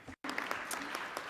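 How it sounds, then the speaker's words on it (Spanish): Audience applause at an international social protection conference, quiet and brief, with a short dropout near the start before clapping continues evenly. "Por favor, un aplauso."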